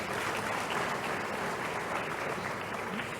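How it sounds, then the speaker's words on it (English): A round of applause from an audience at a Faculty of Renewable Natural Resources 40th anniversary event, steady and fairly distant, with clapping holding evenly throughout. "Let's give him a round of applause."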